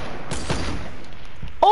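Gunfire in a Fortnite-style shooter match: a few sharp bursts of shots early on, fading into softer thumps, with a brief rising electronic weapon-switch tone at the end.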